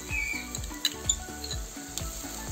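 Coconut paste fries in a pan with a small splash of water, a steady close sizzle broken by soft repeated stirring scrapes at an even pace.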